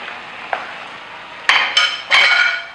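A pound of boiled green beans tumbles into a pan for vegan Szechuan green beans with minced pork, followed by several loud scraping stirs and clanks of utensil on pan, with faint sizzling between them.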